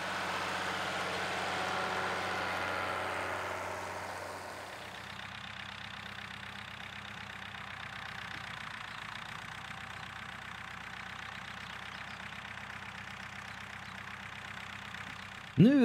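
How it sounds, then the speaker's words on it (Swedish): A 1985 Zetor 10145 seed-drilling tractor with a steady diesel idle, heard close and even throughout, with a brief louder clunk at the very end. "Nu är det dags för såtraktorn Setor 10145 att ta över."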